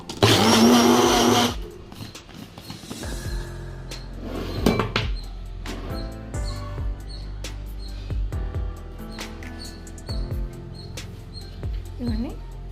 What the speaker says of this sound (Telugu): ఇది ఫస్ట్ మనం మిక్సీ పట్టేద్దాము.